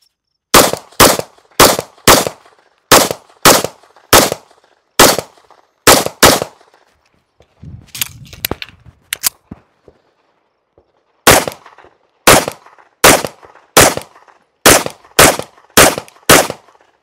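A Tisas B9R 9mm double-stack 1911 pistol fires sharp, loud shots at targets in quick pairs and strings, then pauses amid faint handling noise before another fast volley.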